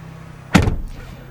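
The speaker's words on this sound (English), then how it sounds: "Frameless windows, so you're gonna have that kind of window clunk." A Ford Bronco Raptor door with frameless windows shuts in one solid, close thump, followed by a brief rattling clunk of the glass settling over quiet background hum.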